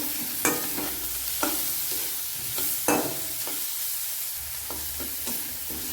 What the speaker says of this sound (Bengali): পরিমাণ মতো হলুদ দিয়ে দেবো, দিয়ে একটু নাড়াচাড়া করে দেবো।